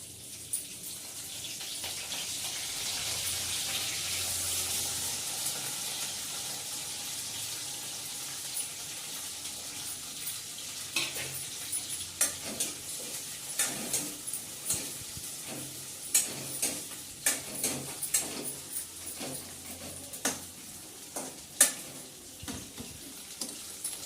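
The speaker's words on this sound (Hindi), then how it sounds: "तो इला थोड़ा से तलबो।" Fenugreek leaves sizzle in hot oil in a pan for a cauliflower-potato curry, a steady crackling hiss that later breaks into sharper clicks and scrapes of stirring, close and fairly quiet.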